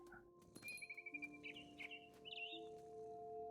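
Mama bird from What Remains of Edith Finch chirping in a short run of bright, rising tweets and trills, fairly close and moderately loud over a steady game ambience with soft low hum.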